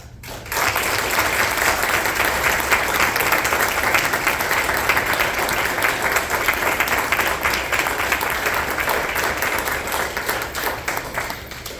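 Sustained audience applause at a school board meeting honoring a student, dense and steady clapping from a large room that starts abruptly and carries on for about eleven seconds before tapering slightly.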